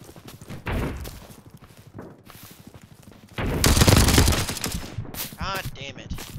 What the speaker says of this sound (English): Machine guns all the time.